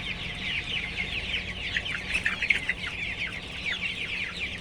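Many Sonali chickens feeding on cabbage at a farm chatter in quick, overlapping clucks and peeps, busiest near the middle, close and steady over a faint hum.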